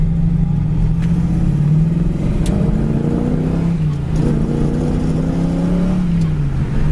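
A 1969 AMC AMX engine rumbles loud and close from inside the car, its pitch rising and dropping with the revs as it slows through the gears.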